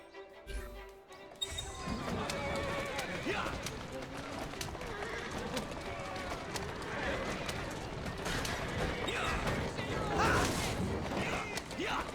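Galloping horse hooves from a lap race in the video game Assassin's Creed Syndicate, a fast, steady pounding rhythm that starts abruptly and runs loud and continuous under game music and effects.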